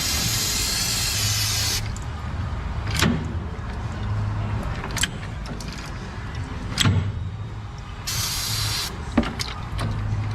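Brake cleaner sprays in loud, steady hissing bursts onto gears, one long blast at the start and another near the end, with sharp metallic clicks and knocks between.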